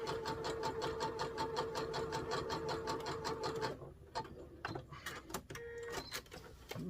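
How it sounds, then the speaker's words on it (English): A sewing machine runs a zigzag stitch joining butted scrap fabric ends, a steady fast mechanical rattle for several seconds, then stopping into quieter scattered clicks and handling noises. "So I'm just keeping the two ends butted together and running that zigzag stitch so it'll catch"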